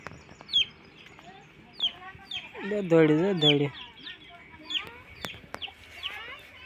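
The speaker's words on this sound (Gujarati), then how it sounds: "કુકડા જ છે નકરા જ્યાં જોવે ત્યાં." Chickens and roosters cluck and chirp repeatedly nearby on a farm with cows, one longer drawn-out call standing out midway, while a person speaks intermittently.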